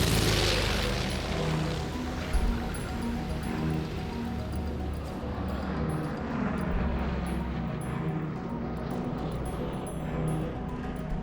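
SBD Dauntless dive bombers fly in a dense, loud, continuous roar of aircraft engines with a rumbling low end, sustained without a break and with no voices.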